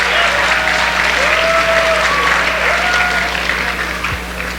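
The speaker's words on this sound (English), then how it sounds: "let's give a round of applause for all 143 participants" Steady, dense applause from a large audience at a student dance, singing and skit show honoring 143 participants, loud and continuous throughout, with a faint whistle or cheer tone riding above and a low hum underneath.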